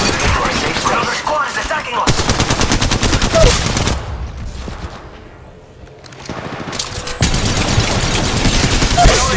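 Rapid automatic gunfire in Apex Legends Mobile, loud dense bursts of shots that fade briefly in the middle before resuming full force, with faint voices underneath.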